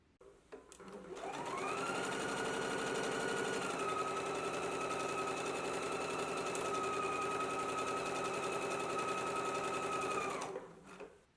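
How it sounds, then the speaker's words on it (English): A sewing machine starts up and runs at a steady, rapid whir while stitching fabric for several seconds, then slows and stops. "I'm going to go to the sewing machine and we're going to stitch it at a 5/8 of an inch seam allowance"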